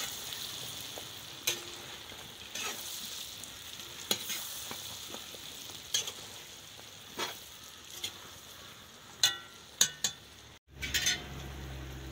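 Chicken and garam masala, cumin, ginger and other powdered spices stirred in a pot over a traditional Kashmiri mud stove for tehri, with steady sizzling and scattered spoon scrapes and clinks, then louder clatter near the end.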